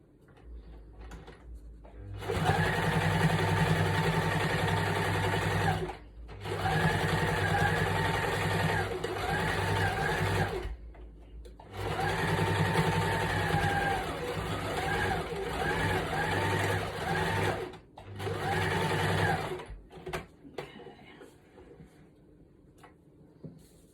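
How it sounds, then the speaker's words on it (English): A sewing machine stitches a motif onto a lace junk journal tag, running in four long bursts of steady mechanical whirring separated by brief pauses, close and alone with no talk. "Now I'm just going to stitch on our motif."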